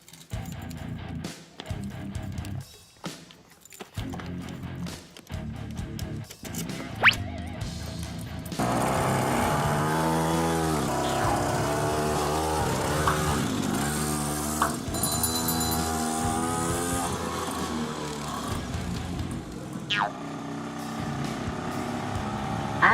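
Small engines of a children's quad bike and a kids' motorcycle idle and rev steadily close by, a continuous buzzing drone under a child's and a father's voices, with a few sharp clicks early on.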